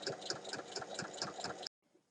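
A sewing machine topstitches around a lined bag, its needle tapping in a quick, even rhythm of soft mechanical beats for under two seconds before stopping.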